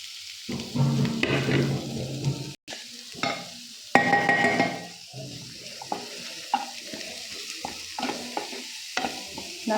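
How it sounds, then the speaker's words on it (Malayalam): Small onions, garlic and ginger fry and get stirred in a pan, with bursts of sizzling and scraping stirs that come and go in short uneven spells, near and moderately loud. "ഞാൻ നല്ലപോലെ ഇതൊന്ന് മൂപ്പിച്ചെടുക്കുകയാണ്"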